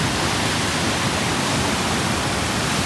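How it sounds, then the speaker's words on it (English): Lake Superior waves crash on the coast after a storm, a steady, dense roar of surf with no breaks, loud and continuous with no voices. "You can have big, giant waves out of the blue, just striking the coast."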